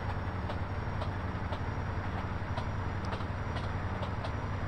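A train rolls past a level crossing in the video game GTA San Andreas, a steady dense rumble with a regular clacking rhythm throughout, no talk.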